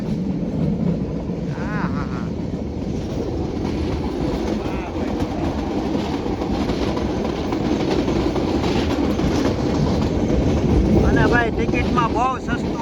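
A train from Visavadar to Talala Gir rumbles steadily along the tracks with rhythmic clickety-clack and wind noise, and muffled voices drift in the background.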